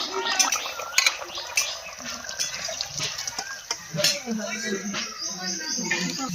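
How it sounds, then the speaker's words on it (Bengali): Tilapia fish curry with ridge gourd is poured out of a pan, with metal scraping and clinking of a spoon against the pan and a wet, sloshing sound, close and moderately loud, while crickets chirp in the background. "হয়ে গেছে, এবার ঢেলে নেবো"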